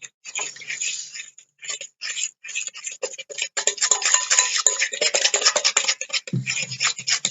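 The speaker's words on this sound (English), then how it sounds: "So now I add a little bit of milk. And again, I'm stirring." A utensil scrapes and clicks against a bowl while pancake batter with freshly added milk is stirred, quick close scratchy strokes in uneven bursts that grow busier and louder midway.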